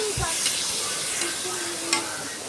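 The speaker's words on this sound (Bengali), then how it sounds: "পটল সেদ্ধ হয়ে গেছে, এখন আমি একটু কষিয়ে নেব" Boiled pointed gourd (potol) sautéing in a pan, a loud, close, hissing sizzle with a dull knock at the start and a couple of scraping stirs, no voices.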